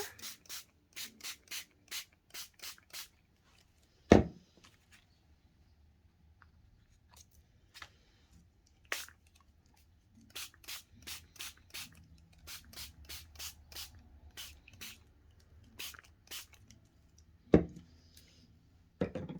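Repeated short hissing bursts of spray onto paper in a quick rhythm, close by, with a couple of sharp knocks and quieter rustling between sprays.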